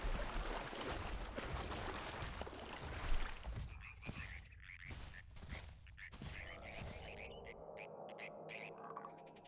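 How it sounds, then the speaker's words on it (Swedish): Frogs croak in a dense, noisy chorus within a dinosaur survival game's wetland, with rough pulsing calls and a few sharper bursts, later thinning to a steady low trill. "Jävla grodor, tysta mer."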